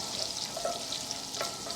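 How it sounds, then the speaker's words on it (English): Garlic frying in olive oil and butter in a pan gives off a steady, close sizzle with a continuous crackling hiss and no voices. "So we've just got our garlic frying nicely"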